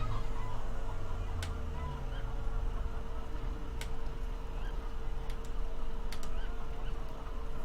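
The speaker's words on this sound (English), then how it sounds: "As you can hear, there's chickens in the background." Chickens clucking in a farm chicken coop in the Farming Simulator 15 video game, a steady faint background bed of fowl sounds with a few sharp brief calls, no talking.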